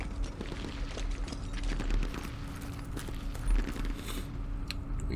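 Scattered small-arms gunfire in the Vietnam war strategy game Campaign Series Vietnam, irregular crackling shots and thuds over a steady background din.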